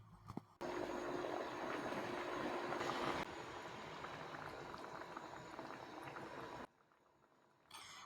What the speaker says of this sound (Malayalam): ഒരു സൈഡിൽ നമ്മളെ മീൻകറി നല്ല വെട്ടി തിളച്ചുകൊണ്ട് നിൽക്കുന്നുണ്ട് കേട്ടോ